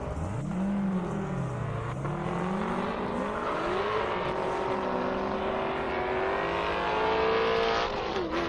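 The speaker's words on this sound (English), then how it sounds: "Tim in the Camaro" A Chevrolet Camaro makes a drag racing run at a half-mile airstrip, its engine revving and climbing through rising, falling pitch sweeps as it accelerates, loud and sustained with no talk.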